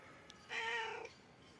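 A black cat gives a single soft meow, brief and fairly close, in an otherwise quiet indoor setting.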